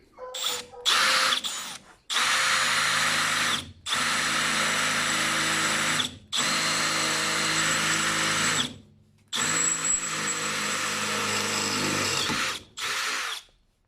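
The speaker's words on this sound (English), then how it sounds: "Now let's try drilling some steel conduit." A Milwaukee M18 brushless compact cordless drill whirs loudly in several sustained bursts with short stops between, grinding through steel conduit at close range.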